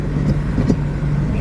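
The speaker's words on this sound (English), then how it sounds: "Now we take it for a test drive." A Hyundai Excel/Accent driving on a test drive after a brake pad change, a steady low engine and road hum heard from inside the car, continuous and moderately loud with no talking.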